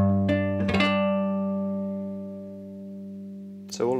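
A plucked cigar box guitar plays a few minor-scale notes at the start, then the strings ring and slowly decay into quiet, with a brief strum near the end.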